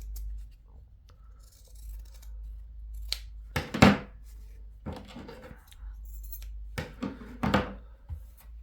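Scissors trimming a fabric seam while sewing a sailor hat, several crisp snipping cuts in small clusters over a low hum, close and fairly quiet, with no talk.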